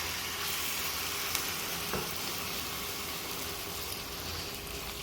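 Beef sizzles and fries in a hot pan with a steady, dense crackling hiss that holds even throughout, broken by a faint clink or two from stirring, with no voices.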